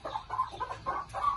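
A white hen clucks in short repeated bursts, close and fairly clear, with brief pauses between calls and no talking.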